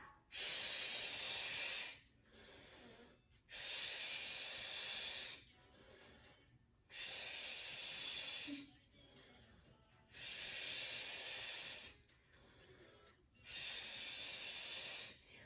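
Slow, deliberate breaths during a first-trimester pregnancy ab exercise, five long airy hissing exhalations in a steady rhythm with quieter gaps between them, close to the microphone.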